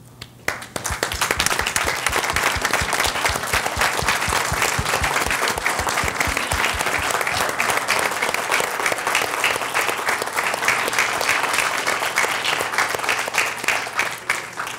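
Forum audience applauds veterans standing in the room, a loud sustained burst of many hands clapping that starts with a few separate claps, swells quickly into dense, even applause and holds steady before tapering slightly at the end.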